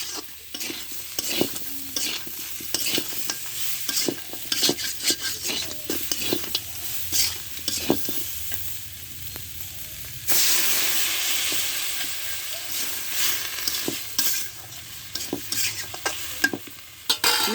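Crab and taro are stirred and fried in a pan, with repeated spatula scrapes over a crackling sizzle that swells into a steady loud hiss partway through.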